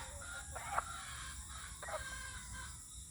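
Fighting roosters, a gamecock breed kept for cockfighting, give two short crows or calls about a second apart, moderately close, against a steady background hiss and low rumble; no one talks.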